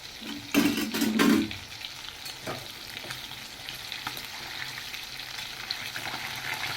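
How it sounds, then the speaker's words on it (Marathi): Fish fries in a pan with a loud, steady sizzle and a burst of crackling near the start, which then settles into a constant hiss. "हे बघ इकडे सुद्धा फ्राय व्हायला लागली"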